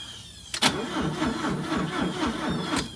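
After a sharp click, a 1978 Fiat Spider engine, unused for 30 years, cranks on a low battery with a slow, labored, rhythmic churn that sounds sluggish and strained, close by.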